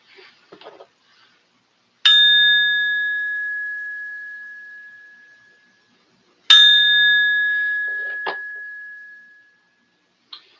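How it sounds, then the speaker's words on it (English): A silver coin balanced on a fingertip is pinged twice, each strike giving a bright, pure ringing tone that sustains and fades over a few seconds, with faint handling clicks before and between. "I always hold them on my finger when I ping it, on the fingertip of my middle finger"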